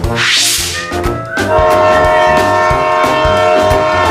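A train sound effect opens with a rushing whoosh, then a loud sustained multi-tone horn blares over rhythmic chugging and clattering wheels, with no talk.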